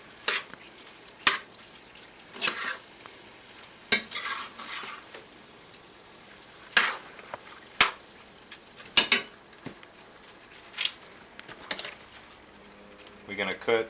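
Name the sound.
stirring seasoning in a pan over medium heat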